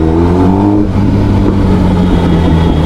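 A Kawasaki ZX10R superbike engine revs loud and close, a steady deep mechanical drone with shifting harmonics running throughout.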